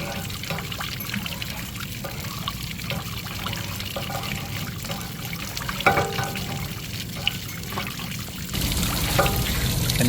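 Dirty, sediment-laden hot water drains out of an RV water heater, pouring and trickling in a continuous splashing stream that swells louder near the end, with no talk.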